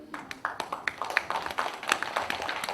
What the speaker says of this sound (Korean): 박수로 모셔주십시오.